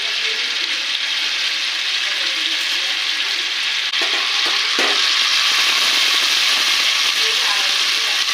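Two spoons of butter sizzle steadily in a pan for paneer butter masala, a continuous close hiss with a few faint clicks partway through.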